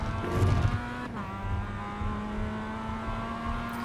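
A Mazda MX5 in the iRacing sim pulls out of a corner at Navarra Speed Circuit. The engine note drops on a downshift, then climbs in a steady, loud drone as the throttle comes smoothly back on, with a brief tire scrub near the start.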